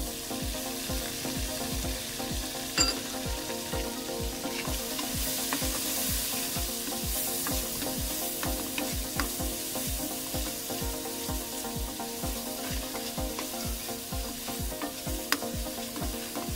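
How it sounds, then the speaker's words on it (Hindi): Chopped onions frying in a pan with garlic and ginger paste for an arvi and chicken dish, giving a steady, dense sizzle with faint crackles and occasional stirring clinks throughout, no voices. "लहसुन और अदरक का पेस्ट जो मैंने फ्राई किया है प्याज के अंदर। देखें फ्राई हो रहा है"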